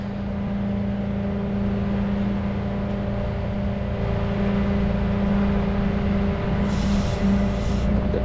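A tow truck's bed sliding down gives a steady, loud mechanical drone with a hydraulic hum that runs unbroken throughout.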